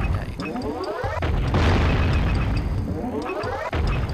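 Steel crates blow up in the Jak and Daxter video game: a heavy booming blast with crunching debris, set between rising mechanical whirs and game effects, all loud and in the foreground.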